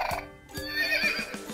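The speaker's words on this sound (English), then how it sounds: "Push the horse's head down for multiple lifelike sounds." A Blue Ribbon Champion Horses Deluxe toy horse plays a recorded, lifelike neigh followed by a few quick hoof-like clip-clops, fairly close and clear.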